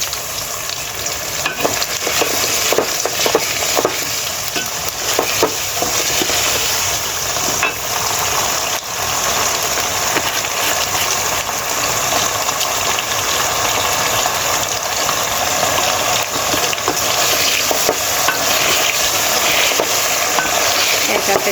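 Potatoes fry and sizzle in a pan while being stirred for biryani, a steady, loud crackling hiss with scraping stir strokes throughout, no voices.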